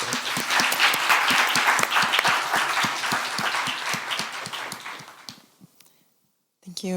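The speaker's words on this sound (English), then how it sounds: "Let's give another round of applause to our panelists and moderator." Audience applause for the panelists and moderator at a panel discussion on tech workers and AI militarisation, loud, dense and sustained for about five seconds before fading to silence, with a brief sound returning at the end.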